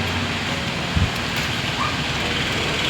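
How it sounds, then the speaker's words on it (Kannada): Rain falls outdoors in a steady, even hiss that does not let up, with a single soft thump partway through and no voices. "ಮಳೆ ನೋಡಿ ಫ್ರೆಂಡ್ಸ್ ಈಗ ತಾನೇ ಹೆಂಗೆ ಸ್ಟಾರ್ಟ್ ಆಗ್ಬಿಡ್ತು"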